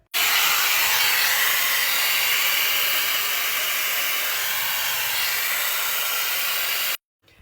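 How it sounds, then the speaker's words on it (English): A hair dryer blows steadily and loudly while hair is dried and curled under with a round brush, a constant airy hiss that starts abruptly and cuts off after about seven seconds, with no talking. "I'm just gonna use this in my hair dryer and start just to sort of curl it under"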